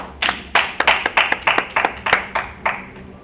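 A church congregation clapping in unison during a French-English prayer service, about a dozen sharp rhythmic claps at a steady beat, fairly close, with no talking.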